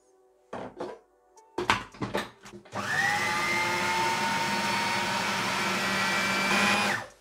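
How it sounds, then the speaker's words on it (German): A few knocks and clunks, then a blender mixing chickpea and sesame hummus with added water roars to life and runs steadily at high speed for several seconds before cutting off. "Das merkt ihr auch schon an dem Geräusch eures Mixers."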